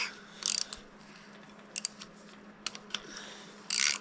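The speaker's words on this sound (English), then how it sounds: "I gotta tighten the bolt." Short bursts of ratchet clicking near an engine being rebuilt for a monoboom skidsteer, coming in several quick clusters with quiet gaps in between.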